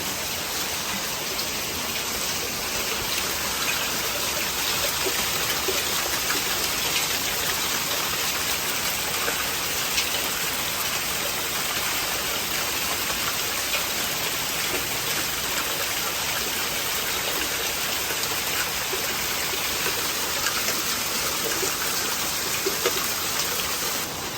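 Hailstorm pounding a house with water spilling over hail-clogged gutters, a steady dense roar of falling ice and rushing water, close and continuous with no break.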